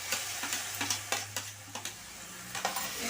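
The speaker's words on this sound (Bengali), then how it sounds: "মশলাটা আমার ভাজা হয়ে গেছে, এর মধ্যে পালং পেস্ট দিয়ে দিলাম।" Spinach paste stirred into already-fried spices in a pan for palong paneer, with a steady faint sizzle and several sharp scraping stir strokes at irregular intervals, close and alone.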